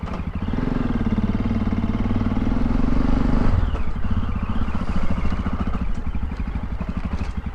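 A Yamaha XT660Z motorcycle engine drones steadily and loudly up close, its pitch shifting as it shifts gear partway through, with constant rumbling and wind noise.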